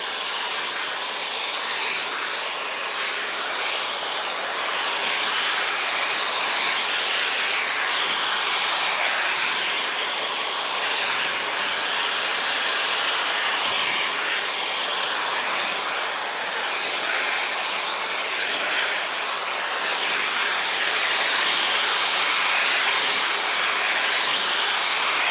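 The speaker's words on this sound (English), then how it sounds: "taking the attachments, the blow dry, just up and down" A blow dryer fitted with an attachment runs continuously while drying natural hair, a loud, steady, airy roar with slight shifts as it moves up and down, and no talking.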